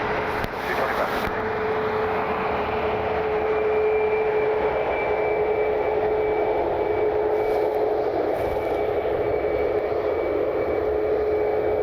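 Jet airliner rolling for takeoff at Cleveland Hopkins airport, a loud steady engine roar with a sustained whine that holds throughout, close and continuous with no talk over it.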